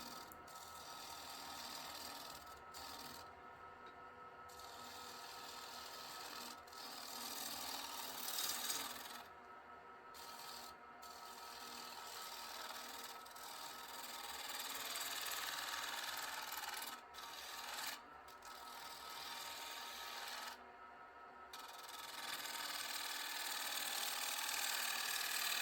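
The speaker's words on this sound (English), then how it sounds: "For the side, I'm using the 1/2 inch spindle gouge again and just following the curve" A 1/2 inch spindle gouge cuts the side of an odd shaped wooden fruit bowl on a lathe, a continuous close scraping hiss broken by several short gaps where the tool lifts off.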